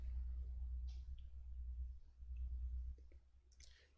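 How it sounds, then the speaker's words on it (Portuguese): Computer mouse clicks, a few soft, faint clicks scattered over a low steady hum in a quiet room. "agora eu vou clicar em aplicar"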